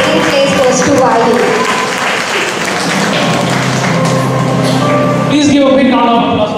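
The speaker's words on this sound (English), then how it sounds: "Please give a big round of applause for all the participants" A crowd at a school dance competition applauds the participants after the winners are announced, loud clapping mixed with music and voices, with a few thuds and taps throughout.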